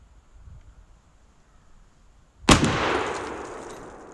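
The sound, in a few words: AR-12 shotgun firing turkey load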